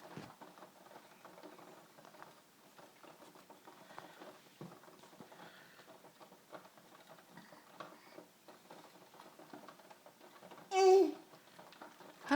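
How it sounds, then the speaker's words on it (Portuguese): Steady rain patters on a surface outdoors, a soft continuous crackle of drops, with a brief louder burst near the end. "Tá vendo a chuva, filho?"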